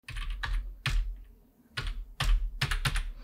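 Someone types on a computer keyboard up close, quick bursts of clattering keystrokes with a short pause in the middle, no voices.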